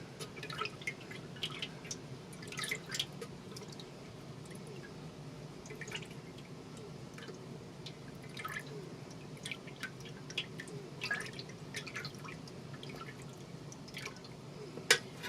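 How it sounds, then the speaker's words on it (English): Fragrance oil is poured into melted wax for wax melts and stirred, giving faint, scattered ticking and light liquid clicks over a soft, steady background. "pour the fragrance oil in. Get it stirred up for another 30 seconds or so"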